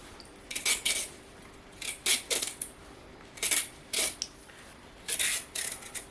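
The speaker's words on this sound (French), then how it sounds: "pour ceux que c'est la première fois qu'ils se servent d'un économe, on n'appuie pas trop fort dessus" A vegetable peeler scrapes along a carrot in quick, crisp strokes, grouped in short clusters with pauses between, close up and fairly quiet with no talking.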